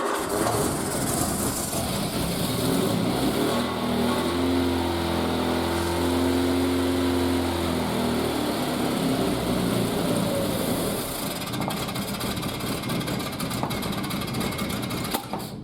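A Triumph Spitfire engine fitted with a single carburettor conversion runs on choke, a steady close buzzing drone with a rising and falling tone in the middle that settles back to an even idle.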